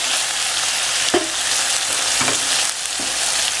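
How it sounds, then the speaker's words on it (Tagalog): Bopis frying in a pan, a steady close hissing sizzle with a few soft stirring scrapes at intervals, with no voices. "Haluin lang nating mabuti."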